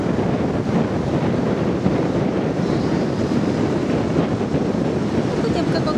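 Waves of a rising tide wash continuously onto a beach in South Goa, India, a broad rushing noise with gusts of wind buffeting the microphone.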